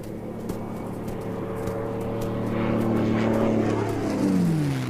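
A propeller airplane passes over the vast red desert of central Australia, its low droning engine tone steady and swelling louder toward the end, with a pitch shift as it passes overhead.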